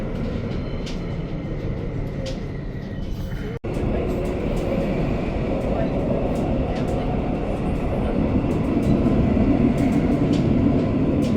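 A tram rumbles steadily along its own street track with faint clicking and a brief break, heard from on board or close by, in West Bromwich, West Midlands, England.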